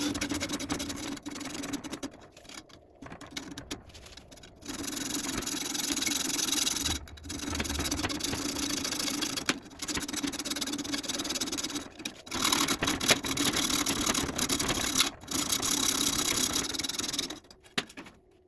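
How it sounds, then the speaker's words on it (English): A power cutting tool grinds a slot into the outer race of a track bar bushing on a 1985–1997 Ford F350, a steady loud whine running nearly continuously with a few brief pauses. "I'm going to cut a slot in this thing, and that way I can more easily deform the outer race"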